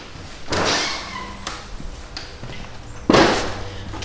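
A house door opening to the outside, with a couple of sharp knocks and thuds and a rattling swing near the end, close by and without talking.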